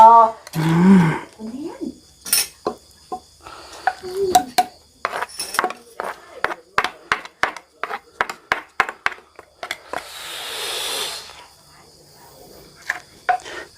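A spoon scoops food into a bowl while making Thai jaew pla ra dipping sauce. A long series of sharp, bright clinks and taps comes close and crisp in an irregular rhythm, with a brief rustle and soft voices early on.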